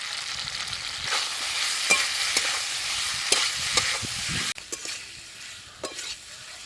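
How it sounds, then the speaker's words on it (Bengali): Fried potatoes are stirred into a spice masala in a pan, a soft steady sizzle broken by repeated scraping strokes of a spoon, close and alone without talk. "এবার ভেজে রাখা আলু দিয়ে দেব।"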